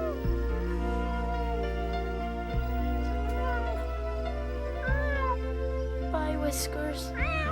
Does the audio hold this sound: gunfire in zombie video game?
no